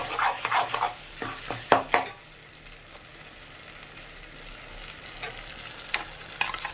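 Garlic and ripe green chilli chutney ingredients fry in oil: a burst of close spoon scraping and clattering against the pan, then a quieter steady sizzle with occasional stirs.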